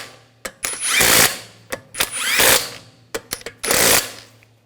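A power tool snugs down the lug bolts on a BMW X5 wheel in loud, short whirring bursts, four main bursts separated by brief clicks and pauses.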